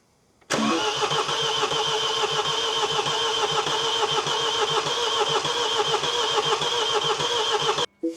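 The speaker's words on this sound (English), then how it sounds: "I don't think it's starting, Timothy. It sounds good though" A Mini car engine cranks and turns over continuously with a steady rhythmic chug for several seconds without starting, loud and close, then cuts off abruptly.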